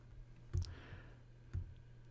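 Two sharp computer mouse clicks while saving a PowerPoint presentation, quiet and close, spaced about a second apart over a low steady background hum.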